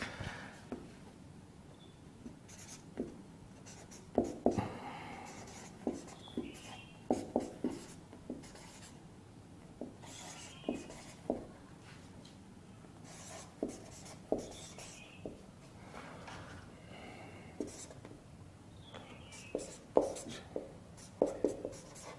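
A pen writing on paper, close and quiet, in short scratchy strokes and taps that come in irregular bursts with gaps between them.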